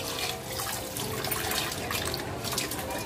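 Soaked rice is washed in water in a home kitchen, with continuous splashing, swishing and trickling, close and fairly loud, alone without talk.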